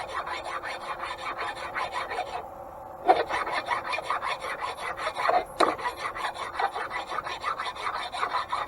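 Hand file rasping a roughened spot on a worn part of an antique grain mill, close and steady with repeated scraping strokes, a short pause partway through, then more strokes; no talking.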